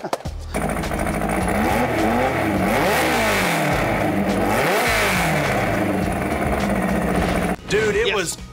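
A Volkswagen Beetle engine at a cold-weather downtown car show fires up and revs hard several times, loud and close, with rising and falling throttle sweeps for about seven seconds before a brief shout.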